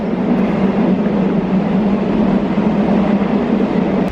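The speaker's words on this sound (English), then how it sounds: "That's a train." A loud, steady rumble of a train rolling past close by at Varenna on Lake Como, a continuous roaring drone with a low hum underneath.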